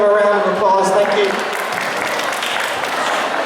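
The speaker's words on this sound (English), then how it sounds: "So can we give them a round of applause?" An audience claps for a winning story-writing team, steady and fairly loud, with a voice heard briefly at the start before the clapping takes over.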